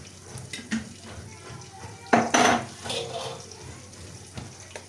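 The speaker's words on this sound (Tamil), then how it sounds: "இப்போ நாங்கள் வந்து ஒரு சட்டி அடுப்பில் வச்சுக்கிறோம்" A pan goes onto a stove and two spoonfuls of oil pour in, with light clinks followed by a brief, louder splashing pour and some quiet clatter afterward.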